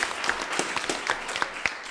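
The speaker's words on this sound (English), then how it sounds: "give him a big round of applause on that" Applause rises at a city council meeting honoring a member of a high school's first graduating class, a short spell of scattered clapping from a modest crowd with individual claps standing out.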